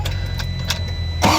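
Starter motor cranking an Isuzu 4HL1 engine, a short steady mechanical churn close by that runs about a second before a louder burst at the end, with no voices.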